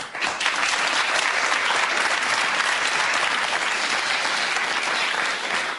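Loud, dense audience cheering and applause filling the whole stretch, a sustained roar of clapping close up with no talk over it.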